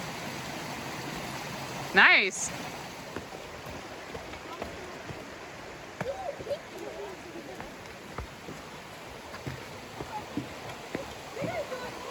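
Water running over rocks at a trail stream crossing on Twin Falls Trail, where flood-washed bridges are gone; a steady, close broadband rush with scattered splashes, and a brief voice speaks near the start.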